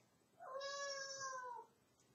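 A hungry cat gives one clear, drawn-out meow, close and fairly faint, in an otherwise quiet room.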